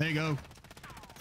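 Video game gunfire crackles in a short burst of rapid shots right after a player's brief spoken remark, quick clipped reports that taper off fast.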